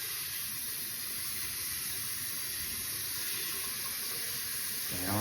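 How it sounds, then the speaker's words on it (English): Tap water runs steadily into a bowl of rice being rinsed, a continuous close hiss and splash with the pour shifting slightly just before it ends. "I'm gonna add some more water"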